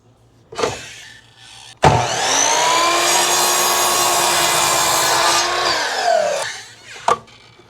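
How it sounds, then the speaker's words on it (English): A power miter saw spins up, cuts steadily through wood for several seconds, then winds down, with brief knocks before and after. "now we can use a miter saw and cut all the way through on the 4-inch line"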